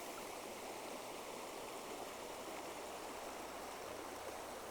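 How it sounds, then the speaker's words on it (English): A small rainforest creek flows with a soft, steady babble of running water, constant and fairly quiet, with no other sounds over it. "Look at this little creek."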